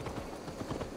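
Horse hooves clip-clop in Assassin's Creed Valhalla, a soft, quiet run of steady beats over a low game ambience.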